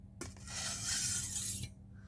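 Kitchen knife drawn once across a new, flat whetstone, giving a single close, smooth rasping stroke about a second and a half long.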